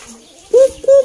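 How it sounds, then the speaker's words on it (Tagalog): A pagaw, or nguk-nguk, bird kept by an elderly fancier gives two close, loud, hooting coos in quick succession. "Meron pa rin isa ditong pagaw o nguk-nguk."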